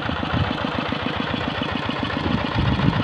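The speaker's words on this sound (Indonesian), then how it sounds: "Traktor ini mesinnya apa, Pak? Mesinnya Kubota." A small Kubota diesel engine on a rice-paddy tractor runs steadily nearby while plowing, a loud rhythmic chugging with a dense, rattling mechanical hum and no voices.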